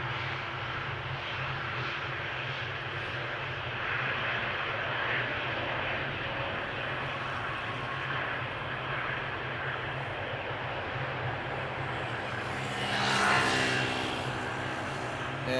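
Boeing 777 airliner engines at Amsterdam Schiphol airport, a steady broad roar held throughout with a louder swell near the end, heard from a nearby spotting spot beside a bike path.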